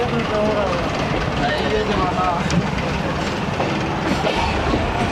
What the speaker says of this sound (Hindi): वज़ीराबाद जंक्शन से रवाना होते हुए ट्रेन फुल भर चुकी है इस वक्त।